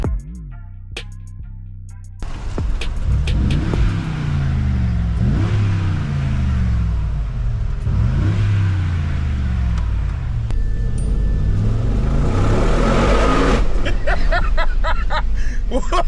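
A powerful Mercedes G-Wagon engine revs hard several times in rising, roaring bursts, loud and close, with a few sharp clicks at the start and end.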